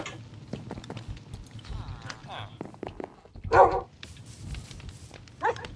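Short dog barks from a Minecraft game, a few scattered yaps standing out over steady talking and game sounds, with one louder burst near the middle.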